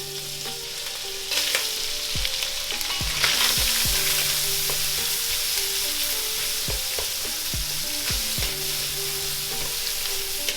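Chorizo and other ingredients sizzle loudly in hot oil in a pan, with a steady crackling hiss and occasional stirring clinks and scrapes.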